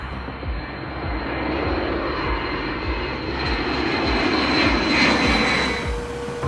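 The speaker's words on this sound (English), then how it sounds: "The B-52 might be old, loud, and a handful to fly" Engines of a B-52 Stratofortress bomber roaring in a loud, steady, continuous drone from inside the aircraft, swelling slightly and holding without a break.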